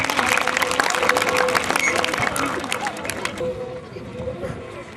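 An audience at a Republic Day event claps for a human pyramid, thick applause with crowd chatter that fades to murmuring voices near the end.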